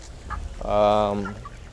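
A single broiler chicken clucks in a poultry house bedded with wood-shavings litter, one short, clear, nearby call against a quiet background.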